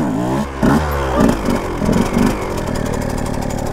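A two-stroke engine on a TM Supermoto revving hard for a wheelie, loud and close, with a rising, falling and rising throttle, then a steady buzzing drone without talk.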